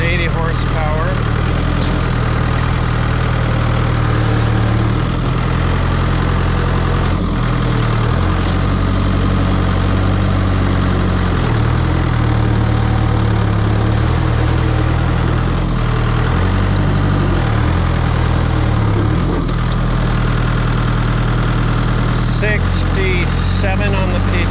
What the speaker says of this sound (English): the tractor I'm driving is a New Holland. It's a 2000 and I think year 2000. TL80